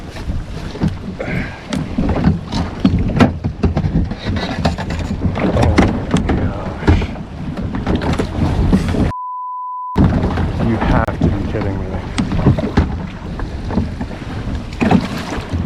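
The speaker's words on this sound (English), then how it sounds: "Waves are coming in the kayak." Wind gusts and waves slapping against a fishing kayak out on rough water, a loud, continuous rush with splashes and buffeting on the microphone, broken once by a brief tone, while a person talks throughout.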